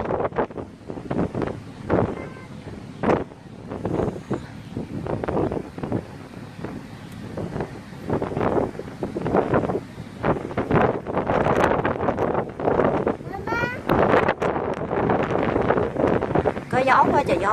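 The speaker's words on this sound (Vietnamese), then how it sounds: "Có gió quá trời gió luôn." Strong wind on a potato farm field buffets the microphone in heavy, roaring gusts, with someone speaking through much of it.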